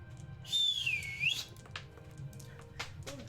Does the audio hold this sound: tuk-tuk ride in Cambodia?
no